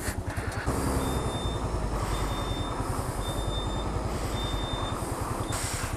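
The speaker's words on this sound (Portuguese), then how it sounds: "Tem mais movimento de carro do que de moto." Traffic on a mountain road, with a heavy truck's engine rumbling steadily close by and a repeating high reversing-style beep sounding over it, with no talk.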